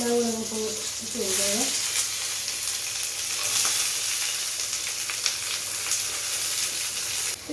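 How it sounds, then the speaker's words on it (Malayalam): Mustard seeds spluttering in hot oil in a pan, a dense steady crackle and sizzle close up throughout, with a short tonal squeak or voice-like sound near the start. "ഇതിനകത്ത് കുറച്ച് എണ്ണ ചൂടാക്കാനായിട്ട് കടുക് പൊട്ടിക്കണം"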